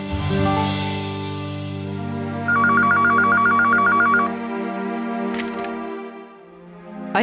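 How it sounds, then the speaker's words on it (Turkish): Landline telephone in a Turkish TV drama scene, with a steady electronic ringing trill sounding loud and close over a sustained musical tone, followed by brief clicks near the end. "sabit telefondan ararım"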